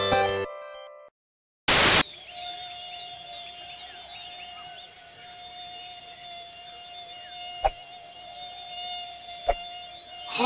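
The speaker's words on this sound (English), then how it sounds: "There are many hungry insects in the tropical jungle." Cartoon sound effect of buzzing tropical jungle insects: a thin, steady, mosquito-like whine holds throughout, with a couple of sharp clicks. It is preceded by a short electronic tone and a brief loud burst.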